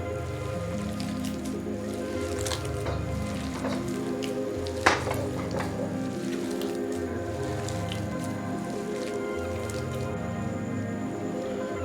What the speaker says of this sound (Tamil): ஆயிலை சுட வச்சு ஃப்ரை பண்ண வேண்டியதான்